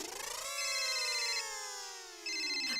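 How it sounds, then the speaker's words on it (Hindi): A mobile phone rings with a bright electronic tone that slides gradually downward, then jumps back up, playing on its own. "मेरा फोन बज रहा है"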